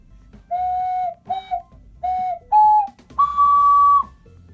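Several pure, breathy ocarina notes come one after another, some short and wavering, the last held longest and highest, played close with quiet gaps between them.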